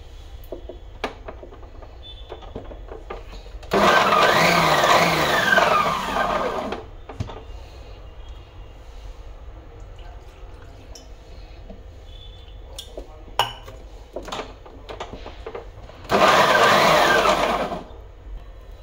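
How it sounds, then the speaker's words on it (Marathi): A kitchen mixer grinder coarsely grinds a methi matar kabab mixture in two loud bursts of about three seconds each, a whirring, rattling motor spin standing out over quiet room noise. "थोडासा असा वाटून घ्यायचा आहे, भुरभुरीत असं, म्हणजे जाडसर असं वाटायचं"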